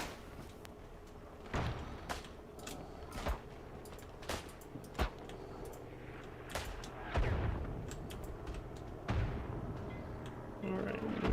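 Grenade explosions and gunfire in Isonzo, a World War I shooter on the Italian front: scattered sharp booms and cracks at irregular intervals, some distant and some close, with someone talking between them.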